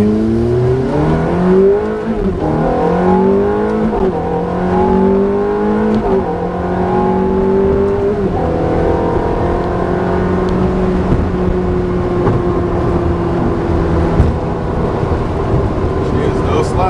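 A Ferrari F430 engine revs and accelerates loudly through a run of rising gear pulls, each pitch climb cutting off at a shift before settling into a steady roar, with people talking faintly over it.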